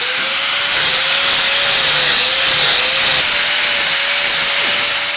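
A power sander grinds down welds on a steel motorcycle hardtail frame for a 1958–1985 Shovelhead/Panhead, making a loud, continuous abrasive hiss with a faint steady motor whine underneath and no pauses.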